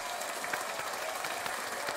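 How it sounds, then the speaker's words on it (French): Steady applause from a small group, continuous clapping with no breaks, moderately loud and close, over a faint background murmur. "On peut applaudir."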